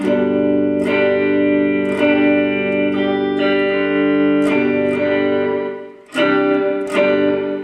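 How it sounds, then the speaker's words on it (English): Sustained electric guitar chords through a Mooer Shimverb reverb pedal, drenched in a metallic, shimmering reverb, restruck every second or so, with a brief dip in level before the final strums. "you can hear what I was talking about. It's not a clean reverb."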